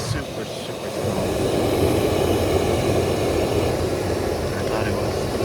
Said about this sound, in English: See how now you can hear the fan spinning.